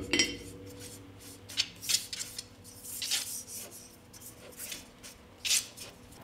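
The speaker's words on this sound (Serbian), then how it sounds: "Sad će mi trebati jedan tiganj i njega ću podmazati sa uljem" A frying pan being greased with oil, heard as soft rubbing and scraping strokes against the metal with a few louder rasps, close and intermittent, with no talking.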